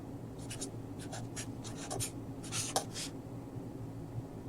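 A pen scratches across paper while matrix operations are worked out by hand, in short, quiet bursts of strokes separated by brief pauses.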